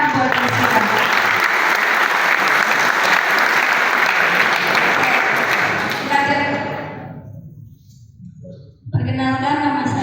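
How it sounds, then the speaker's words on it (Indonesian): Loud, sustained applause from a crowd for several seconds, fading out, then a voice begins speaking. "Tepuk tangan buat Jessica."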